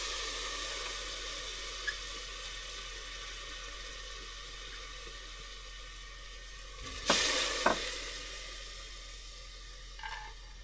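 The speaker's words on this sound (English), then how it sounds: "I'm going to start sauteing the onions, carrots, and celery in this saucepan." Onions sizzle in olive oil in a saucepan, a steady soft frying hiss at a low level, with a couple of brief clatters and stirring sounds partway through.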